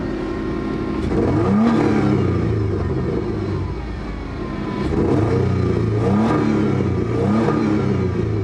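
A 1994 Toyota 4Runner engine revs up and bogs down, a loud close rumbling that surges in repeated waves and sags unevenly, sounding rough and struggling.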